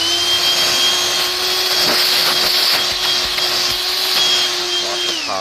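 A Black+Decker Dustbuster AdvancedClean cordless handheld vacuum runs steadily at close range, giving a constant loud motor whine with a high airflow hiss throughout.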